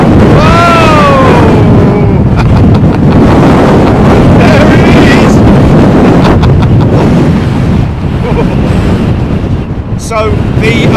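Strong wind gusts roar over the microphone at Heathrow Airport, a loud, steady buffeting rush across the whole clip, with a brief tonal whine early on and a faint voice underneath.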